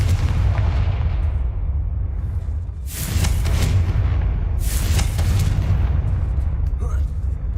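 Two loud, booming blasts from the Confringo fire spell in Hogwarts Legacy, each a sharp burst with a rumbling tail, over a steady low background roar.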